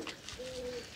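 Pigeons kept in a rooftop loft coo softly at a moderate distance, with one low droning coo standing out against quiet background bird sounds.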